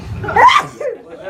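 One short, sharp sneeze bursts out close by, followed a moment later by a person speaking briefly.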